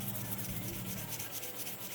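400-grit sandpaper rubbing over Buck knife handle scales, a continuous fine, hissing scrub with a quick back-and-forth rhythm, close and fairly quiet.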